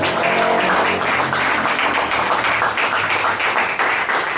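A church congregation applauds steadily and loudly throughout, a dense wash of many hands clapping with no break.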